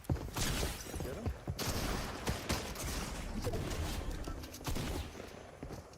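Video game gunfire keeps going, with repeated sharp shots and bursts that sound like automatic fire. They are fairly close and fill most of the stretch, and a voice comes through faintly at times.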